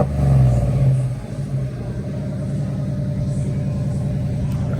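A pickup truck's exhaust with its valves open, revving loud and close: a deep throaty roar at first that settles into a steady, rumbling drone.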